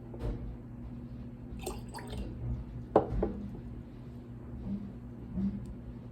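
Water trickles and drips into a small glass jam jar, a few soft splashes and pours over a quiet room hum, close and fairly faint.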